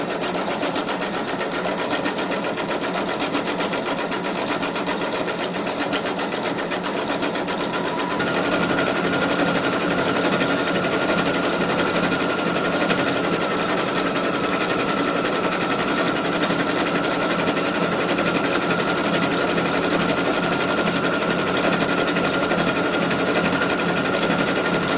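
A sewing machine fitted with a 7-9 hole cording foot stitches over nine cord strands. It gives a steady, rapid mechanical whir and clatter close up, running continuously without pause, with a slight shift in tone partway through.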